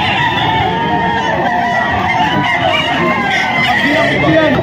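Roosters crow and cluck amid a busy poultry market with crowd babble, including a one-year-old Sweater pumpkin gamecock, the calls loud and overlapping throughout.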